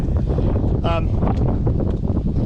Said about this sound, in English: it's windy. Hopefully it doesn't blow my antenna over.